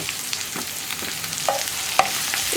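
Sliced onions, salted, sautéing in a pan for Kerala-style kadala curry, with a steady soft sizzle broken by a few sharp scraping clicks of a spoon stirring them, close up and without talk.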